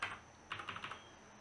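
A HyperX mechanical keyboard with linear red switches is typed on: one keystroke, a brief pause, then a quick run of about five light, close clacks.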